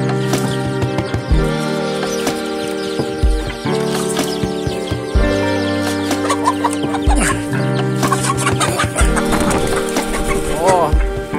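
A hen clucks repeatedly inside a chick brooder box, close and fairly loud in short irregular bursts, with a person talking over it and background noise throughout.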